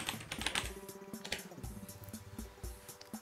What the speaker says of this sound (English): we'll type in a password for them, and we'll retype password again